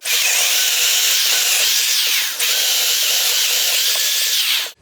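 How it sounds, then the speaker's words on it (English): A power drill bores holes into a wooden beam for a porch swing pergola, a continuous loud high whine that dips briefly midway before resuming, close up with no talking. "I guess we should probably drill the holes."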